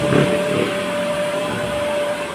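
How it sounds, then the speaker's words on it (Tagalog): A handheld hair blower runs steadily while drying hair during a beauty session, a continuous whooshing motor with a thin whine, fairly loud and close, with no talking. "Hindi rin kasi basta-basta yung blower"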